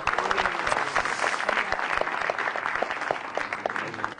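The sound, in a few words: audience applause at stand-up comedy show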